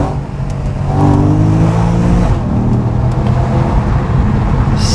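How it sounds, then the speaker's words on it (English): A Porsche engine revs loudly on a PDK dual-clutch downshift, heard from inside the car with a window cracked: a rising, throaty roar that holds strong and close throughout. "downshift."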